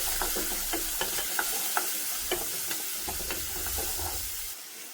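Pineapple chilli chicken mixture being stirred in a hot pan, with a spoon scraping and clacking in irregular strokes over a steady low sizzle, close and moderately quiet, and no one talking.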